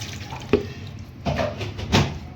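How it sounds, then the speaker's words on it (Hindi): Water is poured over raw chicken pieces in a pot while cooking chicken matar, making short, close splashes and trickles in a few separate bursts. "इसके ऊपर थोड़ा सा पानी डाल देते हैं"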